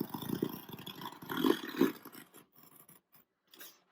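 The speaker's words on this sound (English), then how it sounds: "you want to kind of cut the box, but not cut it all the way through." A blade scrapes and saws through a cardboard shipping box in rasping, irregular strokes, close and fairly quiet, with the cutting fading into short scuffs and pauses toward the end.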